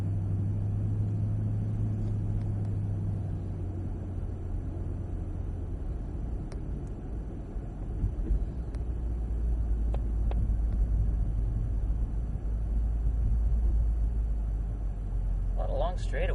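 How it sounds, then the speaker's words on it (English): A Cadillac idles at the COTA race track, its low engine rumble steady and close beneath a person talking throughout, with a slightly deeper tone in the first few seconds. "we'll leave the car running"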